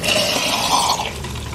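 A little water poured into a hot pan of frozen gyoza-style dumplings, a loud rushing sizzle and splash that rises quickly and then settles into a lower steady hiss, with no talking.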